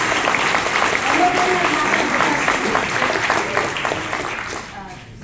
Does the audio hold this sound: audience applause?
yes